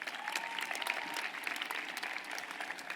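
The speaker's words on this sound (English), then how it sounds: "Let's give them another big round of applause." Dense applause from a large crowd at a high school commencement ceremony, continuous and fairly loud, with many hands clapping at once and no speech over it.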